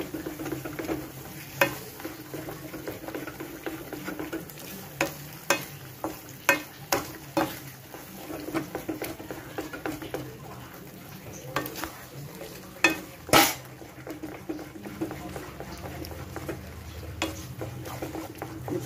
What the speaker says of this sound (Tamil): பாருங்க நம்ம கைவிடாமல் இப்படி கலந்துக்கிட்டே இருக்கணும்.